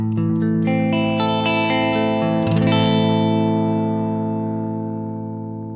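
Electric guitar through a JOYO R-10 bucket-brigade analog delay pedal plays a short run of notes that blur into each other through repeating echoes with slight modulation, the tail slowly fading out over several seconds.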